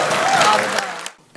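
A short burst of audience applause in a legislative committee hearing room, loud clapping from a crowd that fades out quickly to near silence.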